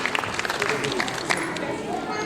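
An audience claps together at a stage event honouring a book release, steady dense applause filling the space throughout, with brief louder bursts and a faint voice audible underneath.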